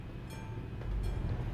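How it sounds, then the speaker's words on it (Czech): Train passing in the Euro Truck Simulator 2 driving game, a steady low rumble that swells slightly toward the end, heard alone without talk. "Tady ještě nějaký vlak jezdí"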